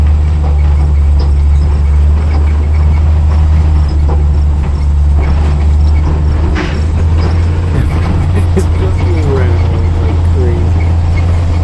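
An old Dodge Power Wagon truck rolls off-road with a loud, steady low engine drone and rattling, bouncing body noise, while people talk over it.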